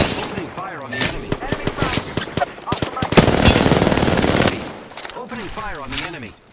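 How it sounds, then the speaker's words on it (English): Automatic gunfire in Apex Legends rattles in quick close bursts, building to a sustained volley, with speech from players or characters heard around the shots. "Opening fire on the enemy."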